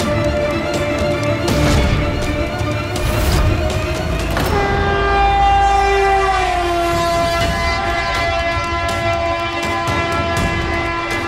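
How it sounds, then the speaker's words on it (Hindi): Train noise with a long sustained horn or whistle tone, steady and loud throughout, heard indoors at home as if coming from somewhere nearby. "ये रेलगाड़ी की आवाज कहाँ से आ रही है"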